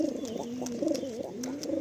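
Pigeons gathered in a loft coo steadily, overlapping low throaty calls close by, with no voices.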